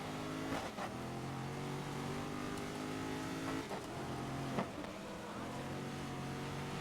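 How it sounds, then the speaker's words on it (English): A race car engine in the video game GRID (2019) drones steadily, with quick gear shifts cutting the pitch a few times as it revs back up. "rapping sound this car makes on the downshifts"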